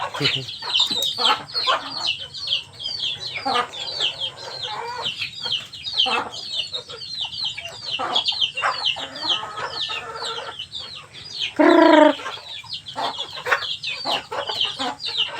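Chickens cluck and chatter close by, short repeated calls overlapping in a busy, uneven rhythm, with one louder squawk near the end.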